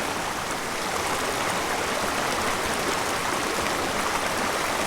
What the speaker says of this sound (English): The stream keeps breaking up into smaller and smaller pieces.